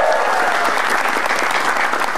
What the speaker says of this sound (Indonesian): Tepuk tangan dulu dong buat Metro TV.